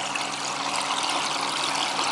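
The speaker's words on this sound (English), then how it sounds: "the drainage is quite noisy." Water drains noisily through the overflow of a planted aquarium, a steady loud rushing trickle that holds constant for the whole stretch with no talking.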